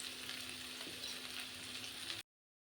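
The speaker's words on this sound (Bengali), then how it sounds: "এখানে কিছুটা তেল দিয়ে দিচ্ছি।" Oil sizzling in a pan for cooking dried fish, a continuous close hissing crackle at low volume that stops abruptly.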